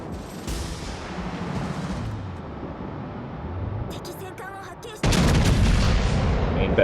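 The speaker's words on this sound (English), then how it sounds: "Main battery loaded, fire away." Warship main battery guns fire in a naval video game: heavy booms and rumbling blasts under game noise, with a louder, sustained barrage breaking out near the end.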